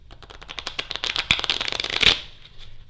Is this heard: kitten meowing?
no